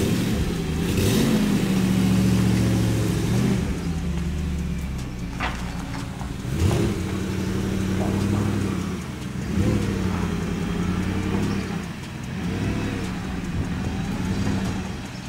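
A BMW E30 drift car with a V8 engine and a Pandem body kit rolls into a garage hall: a deep, close engine rumble that swells and eases with the throttle and echoes slightly, with no talk.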